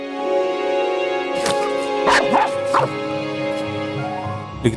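A tied-up dog gives several sharp barks and yips mixed with whimpering, fairly close, over a steady humming background.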